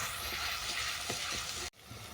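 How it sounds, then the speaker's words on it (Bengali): Mushroom mixture with turmeric and yogurt sautéing in hot oil in a pan, a steady close hiss and sizzle with faint stirring, cutting off abruptly near the end before resuming more quietly. "এটাকে আমি ভালো করে কষিয়ে নেব যতক্ষণ না তেল ছাড়ছে।"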